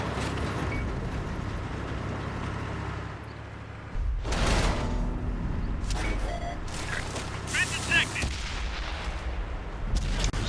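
A tank cannon fires in World of Tanks, a sharp loud blast around the middle followed by further heavy impacts and mechanical clatter over a low engine rumble.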